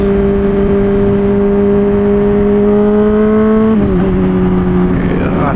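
A Honda CBR600RR motorcycle with a new MGP Growler exhaust holds a loud, steady, buzzy engine drone, close by, which dips briefly in pitch near the end before settling again.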